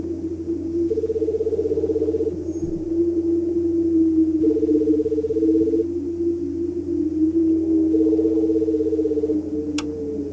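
Telephone number dialed in the horror game Paranormal Syndrome: three short runs of rapid electronic keypad beeps, evenly spaced over a steady low hum and tonal drone, with no talk.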